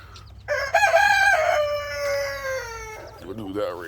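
A rooster gives one long, loud crow close by on a farm in the rain, against steady background noise, followed by softer clucking from other birds.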